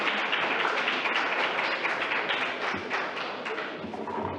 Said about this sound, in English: Let's welcome him with some applause